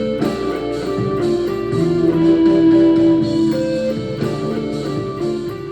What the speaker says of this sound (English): sound you're hearing on the clean is basically the sound I've been using on this pedal board mostly